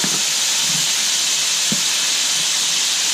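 A steady, loud hiss and sizzle from oil heating in a hot pan used for frying steaks and onions, continuous throughout with a few faint low knocks.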